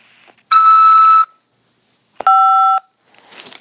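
An automated phone system for calls from a Nebraska prison sounds two loud electronic tones, a steady beep lasting under a second, then a second, differently pitched pulsing tone, with short silences between them.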